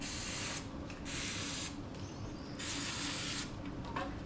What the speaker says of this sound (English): Bit of carby cleaner.